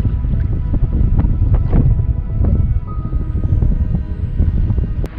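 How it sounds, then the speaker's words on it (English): Strong wind gusting over a remote Australian coast, loud blustery buffeting on the microphone with uneven surges and a few knocks or splashes, close and rough throughout. "I'm gonna wait for that wind to drop off."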